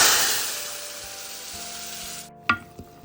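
Dried turkey berries (sundakkai vathal) fry in hot oil for kuzhambu with a steady, close sizzle that stops abruptly, then a couple of utensil clinks follow.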